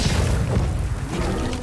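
A grenade explodes in Second Extinction, a dinosaur shooter game, as a loud, close, sustained deep boom with a rumbling crash that fills the whole short moment.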